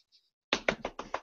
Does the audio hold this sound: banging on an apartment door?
yes